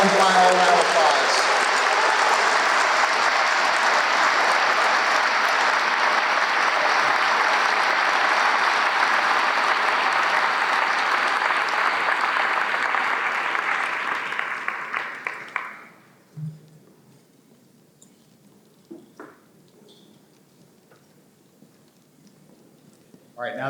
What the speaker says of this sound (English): Please give these outstanding scholars one final round of applause.